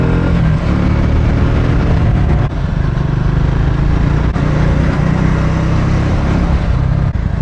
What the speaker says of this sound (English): So we are back on the trails, and the Triumph Scrambler is eating the tarmac up.